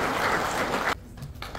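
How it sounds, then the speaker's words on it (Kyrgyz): Applause from an audience at the first meeting of a Kyrgyz Alaman Ulak federation, a dense burst of clapping that cuts off abruptly after about a second, leaving quiet room sound. "Кол чабуулар менен"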